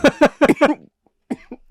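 A burst of four rough coughs in quick succession, then a pause and two weaker hacking coughs, close and fairly loud.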